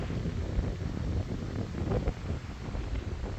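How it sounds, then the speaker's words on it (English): Blustery wind buffeting the microphone, a constant rumbling rush with gusty swells and no voices. "It's windy today. Can you hear the wind?"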